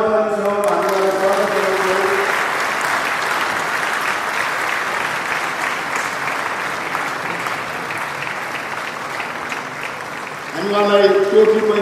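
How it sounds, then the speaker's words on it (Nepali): Audience applause at the opening ceremony of a Nepali-speaking Christian fellowship gathering in Gangtok, Sikkim: sustained, dense clapping from a large crowd for about ten seconds, with a voice heard speaking briefly before it starts and again as it ends. "हामी ताली बजाउँछौँ"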